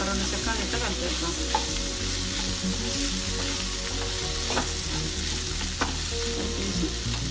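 Ginger garlic paste is stirred in a hot frying pan for a tondakaya fry, with loud continuous sizzling and the scrape of a spoon at irregular intervals, and no talking.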